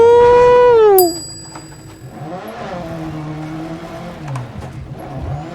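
Rally car engine in a racing video game on an Australian gravel stage, revving high then dropping sharply as it shifts, followed by a lower, rougher drone with rises and falls as the car keeps driving.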